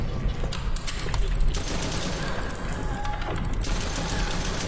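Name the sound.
gunfire shooting at monsters in a horror video game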